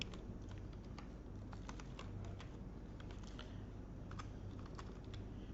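Steady, quick clatter of typing on a computer keyboard during spreadsheet data entry, with even close keystrokes continuing throughout at a modest level and no talking.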